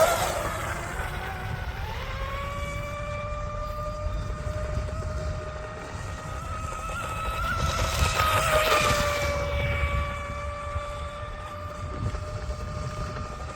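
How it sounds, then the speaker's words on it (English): Small electric RC mono boat with a 3900 kV motor on 3S and a 60 amp marine speed controller running laps on water, a steady high-pitched motor whine that swells louder as the boat passes close around the middle, then fades again. "This boat runs a 3900"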